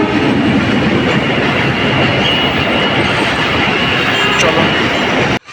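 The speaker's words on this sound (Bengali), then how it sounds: "হ্যাঁ, ট্রেন ঢুকে পড়েছে।" A train rumbles loud and close through a level crossing at Mohakhali in Dhaka, a dense continuous roar of wheels and carriages with clattering on the rails, sustained for several seconds before dropping off.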